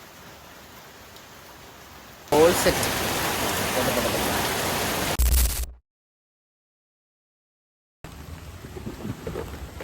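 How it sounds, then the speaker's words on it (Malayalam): Heavy rain pours loudly for a few seconds, then cuts to silence before quieter outdoor sound returns; a voice speaks briefly. "നല്ല മഴ"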